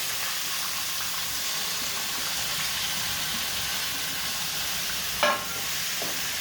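Chopped peas, capsicum, carrots and beans frying in a pan for veg cutlets, a steady soft sizzle throughout, with one brief louder clack of stirring near the end and no voices.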